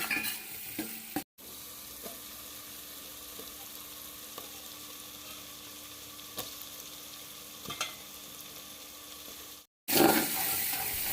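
Ginger garlic paste and coconut being stirred in a pan for chicken biryani, a soft steady sizzle with faint scraping and occasional light taps, broken by two brief silent cuts and louder frying at the end.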